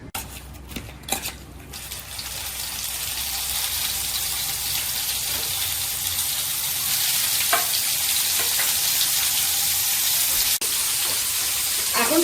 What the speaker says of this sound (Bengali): মাছটা এদিকে ভাজা হোক